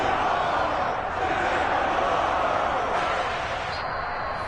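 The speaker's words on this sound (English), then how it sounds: "various shouts from this crowd as they watch the replay" Football stadium crowd at a Jaguars game shouting and roaring as a replay is shown, a dense, steady wash of many voices.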